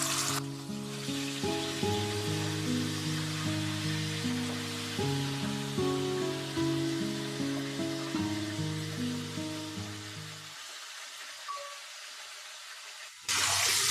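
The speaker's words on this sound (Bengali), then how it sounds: "তেলটা গরম হয়ে গেছে, এবার এক এক করে মাছটা দিয়ে দিচ্ছি।" Pieces of Ganges hilsa fish fry in hot oil in a pan, making a loud, steady sizzle. Music plays underneath, and both cut off sharply near the end.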